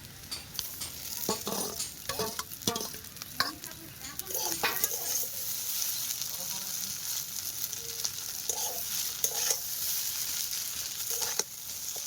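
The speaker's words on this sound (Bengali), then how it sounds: "সব কিছু দিয়ে ভালো করে মিশিয়ে নেব।" Steady sizzling and frying with chow mein noodles, fried potatoes, scrambled egg and carrot being stirred and tossed in a pan, occasional scraping of a utensil against the pan, no talking.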